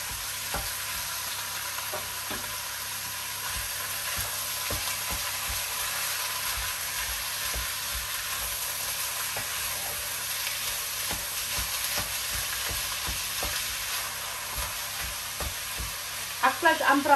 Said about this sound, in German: Fleisch anbraten ist immer ein bisschen Arbeit. Man muss immer stochern, damit es sich zerteilt, damit es keine großen Klumpen gibt.